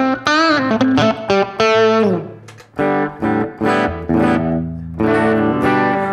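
Electric guitar played through the distortion effect of a multi-effects unit, heard alone as loud, sustained overdriven notes and chords struck in quick phrases with brief gaps between.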